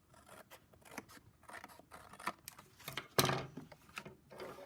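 Scissors snipping shapes out of scrap paper for a collage: a string of close, quiet, irregular cuts and rustles, with one sharper, louder snip near the end.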